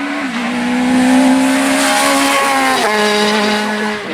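A rally car blasts past at full throttle on a closed public road stage, its engine note a strong sustained tone with a sharp pitch shift as it goes by, loud and close with no talk.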